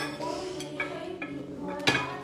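Dishes, glasses and cutlery clink and knock as they are handled, several light sharp contacts scattered over a busy indoor background with faint voices.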